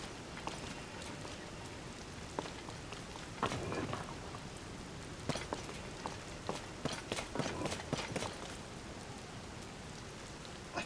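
Rain falls in the video game Tears of the Kingdom as a steady soft patter, with scattered footstep-like taps and crackles over it.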